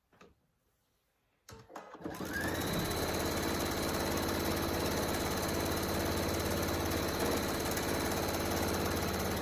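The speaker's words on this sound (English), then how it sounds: "now you want to go around and top stitch around the whole thing." A sewing machine top-stitches around a flat bat wrap, starting after a few soft clicks and then running as a steady rapid mechanical whir and needle clatter, close and continuous.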